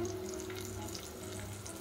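Eggs go into masala frying in a pan for a Marathi egg curry, giving a soft, steady sizzle with faint bubbling at low volume.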